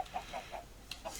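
Chickens in a Minecraft FTB Ultimate modpack cluck in short, soft, evenly spaced bursts, about half a dozen quick clucks in a row, fairly faint and with no voices.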